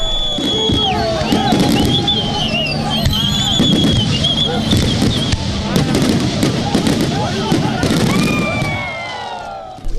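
Fireworks close out a celebration in Papua New Guinea, a steady run of crackling bursts and pops under a noisy, cheering crowd for about ten seconds.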